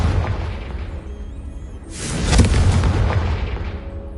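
A Confringo fire spell explodes in the Hogwarts Legacy video game: a loud, broad boom with a whooshing burst that swells around the two-second mark and then rumbles on over low background music and ambience.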